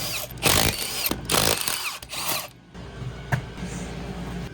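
A power tool whirs in short bursts while removing a rear wheel from a Can-Am Defender HD10, the close, loud spin-ups separated by brief pauses.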